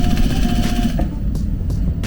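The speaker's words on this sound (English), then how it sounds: "I am sewing at the moment" A sewing machine stitches garment pieces with a close, steady mechanical whirr for about a second, then stops, leaving a few faint clicks and handling sounds.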